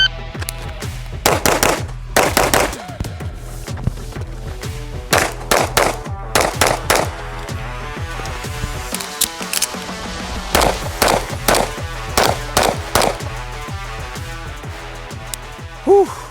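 Gunshots ring out at a Navy SEAL range drill, a loud, close series of sharp reports in quick bursts with brief pauses, seemingly for reloads.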